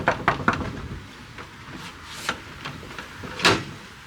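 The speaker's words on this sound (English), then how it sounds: "we might have to knock the door because it seems closed" Someone knocks on a closed wooden door in a Danish-style village in Solvang, California: a quick triple rap, then scattered single knocks, the last one loudest, with no talk over them.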